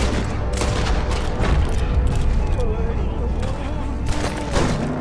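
Gunfire in the video game Red Dead Redemption 2 during an escape toward a boat, bursts of shots and booms scattered through a busy mix, with someone narrating over them.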